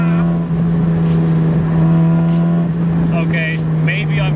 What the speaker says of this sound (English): maybe I'm going to keep the stock exhaust. It sounds really good.